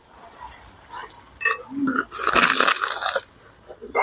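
Someone bites into crunchy fried pork belly (liempo) and chews loudly at close range, with crisp crackling crunches and wet mouth sounds. No one speaks.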